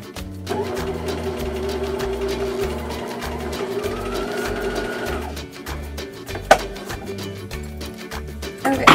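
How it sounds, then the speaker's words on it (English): Sewing machine stitching a welt pocket corner to corner, running in close rhythmic bursts of rapid stitching with short pauses between them, a sharp click near the end, and no talking. "we're going to sew from the corner here where we cut our triangle to this corner here"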